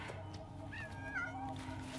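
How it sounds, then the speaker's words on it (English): A cat meows in Death Stranding 2, a few short, thin mewls close by over a steady low background hum. "that's Tarman's kitty cat"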